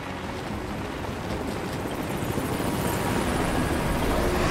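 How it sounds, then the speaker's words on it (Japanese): An attack helicopter in the video game Rise of the Tomb Raider gives a steady, rumbling rotor-and-engine roar that grows slightly louder and closer throughout, with no talking. "攻撃ヘリじゃないか"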